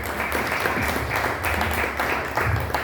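A church congregation applauding at a worship gathering, with a sustained wash of clapping filling the room and a voice faintly under it.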